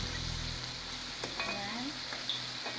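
Squash pieces for pinakbet sizzle steadily in a hot pan, a close, continuous frying hiss with a few soft stirring scrapes and a brief voice.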